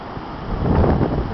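A gust of wind from Hurricane Igor in St. John's, Newfoundland, roaring into the microphone as a brief, close, muffled rush that swells and then eases.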